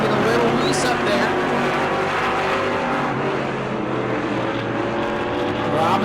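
Race cars on the track at New Smyrna roar past in a loud, sustained engine drone with rising and falling pitch, while a commentator talks over the racing.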